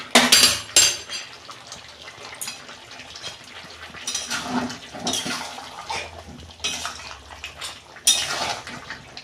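Tomatoes go into a pan of mutton curry, with clattering, scraping and wet splashing from the pan and utensils in bursts, close and fairly loud, with no talk.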